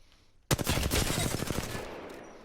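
Rapid automatic gunfire in the Apex Legends video game, a sudden burst of closely spaced shots that starts abruptly and then rings out with a fading tail.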